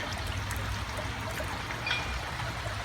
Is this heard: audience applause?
no